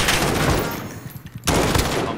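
Rapid automatic gunfire in Call of Duty Warzone, a loud burst that drops into a brief lull with a few scattered shots, then resumes as a sustained stream.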